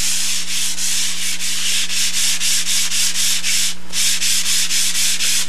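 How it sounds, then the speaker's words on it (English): A surface is sanded by hand with steady back-and-forth strokes, a loud rhythmic rasping about twice per second that runs close and continuous, pausing briefly once, over a constant low hum. "So obviously here we have 8 sides that have to be sanded."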